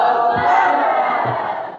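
A crowd of voices shouts together in a loud, sustained cheer, the unison chant fading slightly as it ends.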